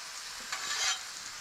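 Rye bread goes down onto a hot Blackstone griddle, bringing a steady sizzle with a brief swell of louder hissing in the middle, close and fairly loud with no voices.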